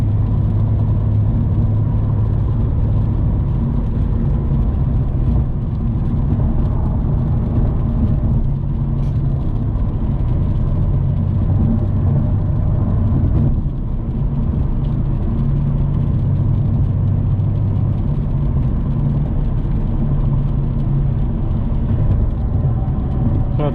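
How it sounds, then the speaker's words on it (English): Steady low road rumble and engine hum inside a Mercedes C63 S on new tires moving on the highway, continuous throughout with no talking. "At least y'all get to see the car in motion though."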